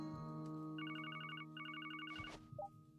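Phone ringing in The Legend of Heroes: Trails to Azure, two bursts of rapid electronic trilling tones over a soft sustained music bed, followed by a brief chime.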